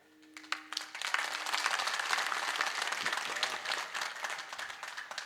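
Loud, sustained applause from an audience at a comic kirtan, a dense wash of clapping that swells up after a short lead-in and rolls on steadily to the end.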